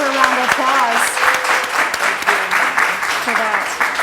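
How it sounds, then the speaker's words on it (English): Audience applause on a talk show, a steady wash of clapping from a crowd in a studio, loud and continuous for several seconds. "So please give her a round of applause"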